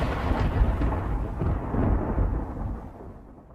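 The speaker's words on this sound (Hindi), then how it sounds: "शाम का वक्त था, आसमान में बादल काले होकर गरजने लगे थे।" Deep rolling thunder rumbling from dark storm clouds at dusk, a loud sustained roar with low booming swells that slowly fades toward the end, no voices.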